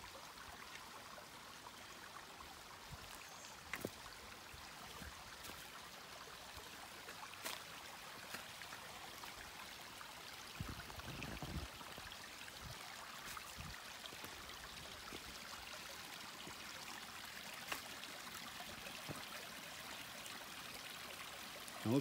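Faint, steady trickle of spring water along the Blue Blaze Trail near Annapolis Rocks in Maryland, a soft continuous babble heard alone with occasional small splashes.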